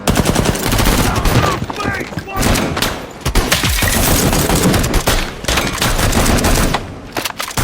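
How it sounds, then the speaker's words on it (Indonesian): Dense bursts of automatic gunfire and shots in a film bank robbery shootout as FBI agents fire on the robbers, loud and sustained with brief gaps, voices faintly under the volleys. "para FBI datang menembaki mereka"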